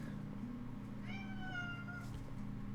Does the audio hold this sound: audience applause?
no